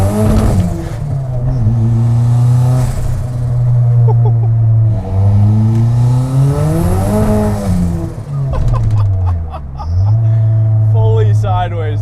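A tiny pickup truck fitted with a turbocharged Eclipse engine and a loose truck shifter accelerates hard in second gear, its engine note loud and close, surging and falling in repeated rising revs with a hint of tire noise.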